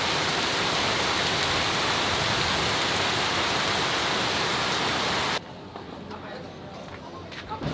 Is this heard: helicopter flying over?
no